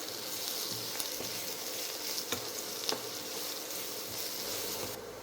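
Ingredients fry steadily in a pan for a Moroccan home-cooked family pie dish, a dense continuous sizzle with a few small crackles and pops, close and alone without talk.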